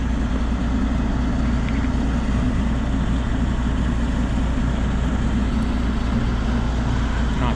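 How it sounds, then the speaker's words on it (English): Excavator with a John Deere diesel engine idles steadily, a continuous low rumbling drone, close and even throughout with no speech. "It's got a nice John Deere engine."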